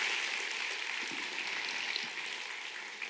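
A church congregation at a Sunday worship service gives loud, sustained applause for the conductor and chamber team, a broad wash of many hands that fades slightly toward the end, with no speaking.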